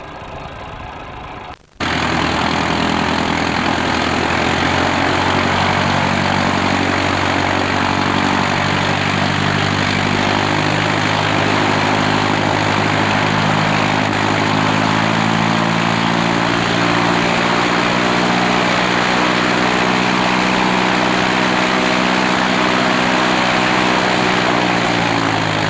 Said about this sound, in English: We will now see number 2 engine having its takeoff power checked